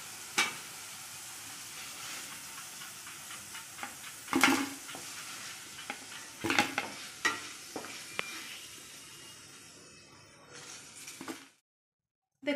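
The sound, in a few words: potatoes frying in oil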